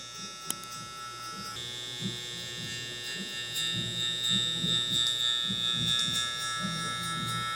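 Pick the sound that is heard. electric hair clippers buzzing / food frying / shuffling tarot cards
electric hair clippers buzzing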